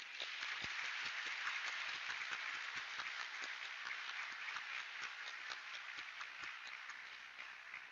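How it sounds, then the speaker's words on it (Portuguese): An audience at a university lecture applauds steadily, a dense wash of many hands clapping that holds for several seconds and slowly thins toward the end. "Vamos aplaudir"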